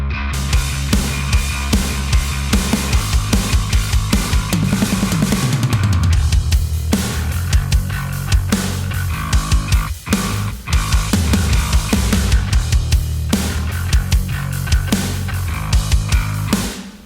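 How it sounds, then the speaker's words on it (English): A pick-played ESP LTD bass runs through a Boogren bass amp with a Softube Marshall Murder clank layer. It gives a loud, gritty, driving riff of rapid picked notes with a sharp attack that continues for about seventeen seconds with brief pauses. "And the clank, the pick attack, is Softube's Marshall Murder 1."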